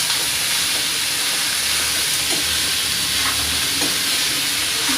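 Chopped onion frying in hot oil, a steady close hiss and sizzle with faint stirring scrapes, no voices.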